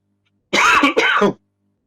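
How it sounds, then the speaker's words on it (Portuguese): A single short, harsh cough, a throaty double burst close to the mic, surrounded by silence. "A tosse é por falar alto aí"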